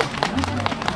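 An outdoor crowd at a Korean folk village performance claps in a thick, steady patter of many hands for about a second, with faint voices mixed underneath.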